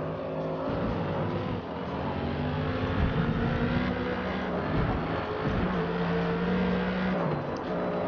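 Race car engines roar continuously in a racing video game as a Mercedes-AMG and a Dodge Viper duel at Hockenheim, with steady high engine drone and shifting tones throughout, no talking.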